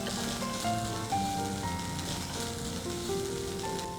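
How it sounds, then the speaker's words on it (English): Onions with ginger paste and garlic paste sauté on a medium flame, a dense, steady sizzle that runs throughout at close range with no gaps. "we'll saute this on a medium flame for a few seconds"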